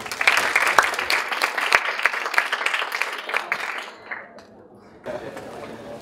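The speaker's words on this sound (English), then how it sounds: "ladies and gentlemen, let's give a round of applause for Dr. Rimawan Pradiptyo." An audience applauds a lecturer at a talk on eradicating organized crime: dense, close clapping for about four seconds, then it thins and fades into quiet room sound.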